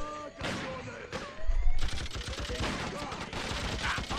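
Bursts of rapid automatic gunfire rattle in the video game Freedom Fighters, loud and close, while a voice talks over parts of the shooting.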